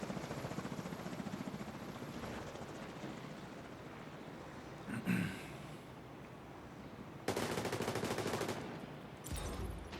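Gunfire in The Division 2 during a player-versus-player firefight, rapid shots crackling steadily throughout with a louder burst near the end, set against a busy game soundscape.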